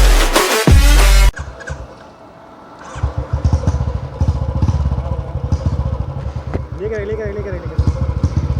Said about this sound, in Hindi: तो आज हम जा रहे हैं अपनी बुलेट का रोड रिएक्शन लेने विद इस पटाखे साउंड और रॉ पावर